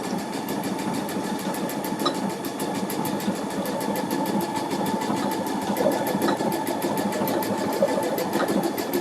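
Sewing machine stitching steadily, a continuous fast mechanical whir with a rapid needle rhythm running throughout, close and fairly loud, with no talking.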